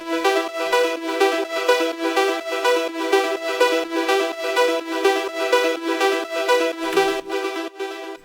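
Tech house synth arpeggio run through reverb and OTT compression, a steady stream of bright, dense, squashed notes pulsing evenly for several seconds, loud and upfront with no voices.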